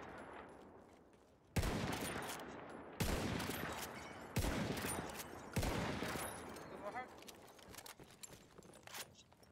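A K Bolt bolt-action rifle in Battlefield 1, altered by an easter egg to blast like a shotgun, fires four heavy, evenly spaced shots up close, each with a booming tail, followed by faint clicks and rattles.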